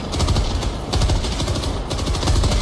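Sustained machine gun fire in Helldivers 2 during a bug breach, a dense rapid rattle of rounds running continuously at close range with only brief dips, loud throughout.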